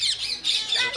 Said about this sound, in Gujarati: જો પોપટ છે